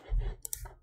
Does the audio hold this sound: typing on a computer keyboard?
yes